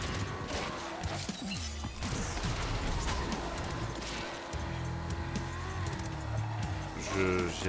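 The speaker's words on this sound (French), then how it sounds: "J'ai la bagnole qui est en train de me prendre cher." A car crashing and taking damage in the racing video game Carmageddon: Rogue Shift, with repeated metallic smashes and thuds over a droning game engine, bursts clustered through the clip, at moderate level.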